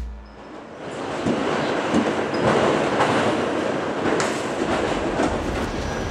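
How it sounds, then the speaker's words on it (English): An elevated railway train in Manhattan, the L train, rumbling past close and loud with steady clickety-clack of wheels, a little screech and a broad continuous roar with no voices. "The L train, the elevated railway that ran up and down Manhattan"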